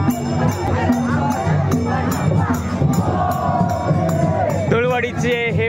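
A festival crowd roars and cheers through a Dhulivandan procession in Shrivardhan, a dense continuous din with rhythmic drumming and raised voices close by.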